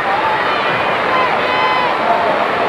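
A packed arena crowd at the 1996 Olympic women's gymnastics team competition roars steadily, a dense continuous wash of cheering and hubbub at constant loudness throughout.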